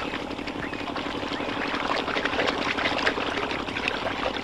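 Water pours into a kudam, a household pot, with a steady splashing rush that stays even and fairly loud throughout, with no talk over it.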